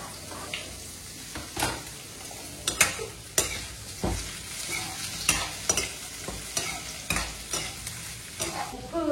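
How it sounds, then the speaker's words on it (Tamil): Chopped onion frying in a pan with a soft sizzle underneath, while a spoon scrapes and knocks against the pan in irregular stirring strokes, close and moderately quiet. "நறுக்கின வெங்காயத்தை இதில் போட்டுக்கலாம்."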